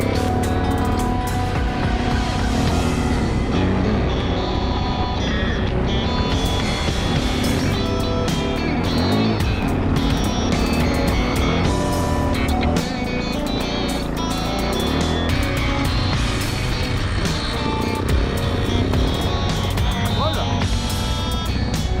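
A faulty motorcycle, its radiator knocked out of place, makes a loud, continuous rough mechanical noise while riding during an off-road rally, steady and dense throughout.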